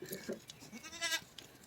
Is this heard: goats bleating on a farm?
yes